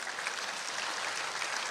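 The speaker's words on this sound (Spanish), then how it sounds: "Den una ofrenda de palmas al Señor." A church congregation gives a short burst of applause, many hands clapping together in a brief, even, moderately loud wash.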